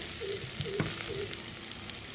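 Spiced potatoes frying in hot oil in a pan, a steady close sizzle and crackle running throughout with a few faint clinks, and no voices.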